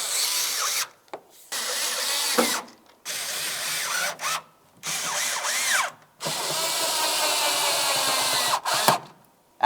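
Bursts of a cordless power tool driving screws into a 2010-2013 Ford Transit Connect rear tail light housing, several short whirring runs separated by brief silences, close and fairly loud with no talking.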